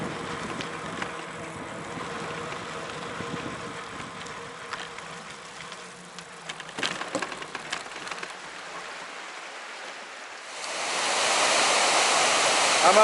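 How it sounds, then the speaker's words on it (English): The Deschutes River rushes near Benham Falls, heard from a bike crossing over it: steady broad water hiss under wind and rolling noise, swelling into a loud, bright roar of rushing water near the end. "Crossing over the Deschutes River here."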